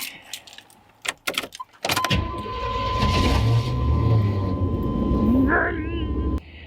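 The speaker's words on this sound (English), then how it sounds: "fire this bad boy up. I'm gonna take it for a ride." A camper van's engine cranks over with a few jangling clicks, catches at about two seconds, then runs and idles loudly with a steady hum, pulling away and revving before cutting off abruptly near the end.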